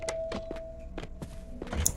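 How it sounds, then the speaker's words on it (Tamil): A bat thuds repeatedly against an enemy in the horror game Death Park 2, a rapid series of about seven dull, close impacts spaced roughly a quarter second apart over a faint steady hum. "பேட்டை வச்சு சும்மா ட்ரை பண்ணி பார்ப்போம்."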